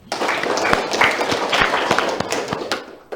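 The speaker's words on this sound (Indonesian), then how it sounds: "Boleh tepuk tangan?" A television studio audience of students and local community members claps in a lively burst of sharp, close hand claps, sustained for a few seconds before trailing off.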